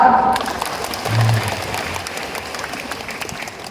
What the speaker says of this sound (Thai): ถ้าใครชอบปรบมือเลยครับ